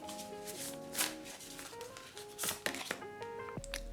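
Oracle cards being shuffled by hand, a steady papery riffling and flicking that runs throughout at close range, with occasional sharper slaps as the deck is squared, with no voices.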